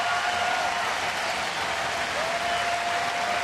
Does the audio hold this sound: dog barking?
no